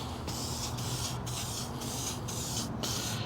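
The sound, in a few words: spray painting panel edges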